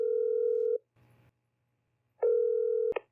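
Telephone ringback tone during an outgoing call: two steady electronic tone bursts, each lasting under a second, separated by a short gap with a faint click, clear and close with no talking.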